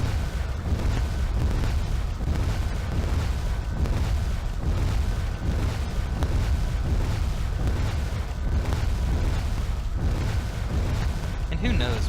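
Cannon shots and explosions in MechWarrior 3 as turrets are destroyed, heavy booming blasts rolling continuously over a dense rumbling game soundscape, loud throughout with a voice talking over it.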